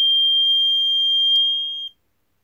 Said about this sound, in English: by turning it on with the transmitter off, the alarm does sound